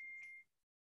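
A phone notification beep, a single steady electronic tone that rings out clearly and close, then cuts off into silence.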